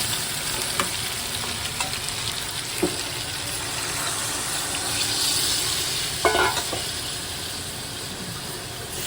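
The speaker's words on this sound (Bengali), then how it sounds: "মাংসটা কষানো হয়ে গেছে তো এখন আমি ঝোলটা দিয়ে দিলাম" Broth poured into a braised meat curry that was fried dry first: continuous sizzling and bubbling close by, with liquid splashing and spoon strokes that surge briefly near the middle and again later.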